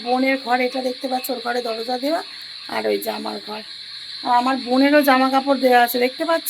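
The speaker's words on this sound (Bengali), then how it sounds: "আরে দেখো ঝিঝি পোকার ডাক" Crickets chirping at night, a steady high-pitched drone that continues unbroken in the background while a person talks over it nearby.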